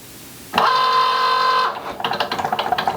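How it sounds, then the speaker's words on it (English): A Cricut cutting machine works on vinyl, a sharp motor whir starting and holding for about a second, then a rapid series of short mechanical pulses as the carriage moves. "Then the Cricut machine will cut your vinyl."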